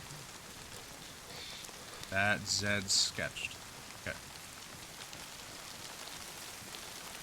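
Rain patters continuously in DayZ, a soft even hiss of falling drops throughout, with someone speaking a few words over it partway through.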